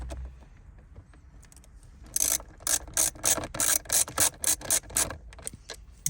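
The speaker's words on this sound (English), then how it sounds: "now we're gonna screw it back to our new console" A ratcheting screwdriver drives a screw that holds a parking brake button into the console of a Jaguar XE. After a quiet start comes a loud, close run of about a dozen rapid clicking bursts, with no talk.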